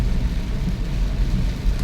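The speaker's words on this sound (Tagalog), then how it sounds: "bumanat na naman yung ulan" Heavy rain from Typhoon Carina pours down during a road journey, a dense continuous roar of downpour with a deep rumbling undertone throughout.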